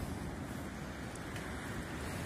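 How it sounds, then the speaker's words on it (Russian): Sea surf breaking on a windy shore in December, a steady broadband roar with wind buffeting the microphone, continuous and fairly distant with no voices. "Море прям шумит."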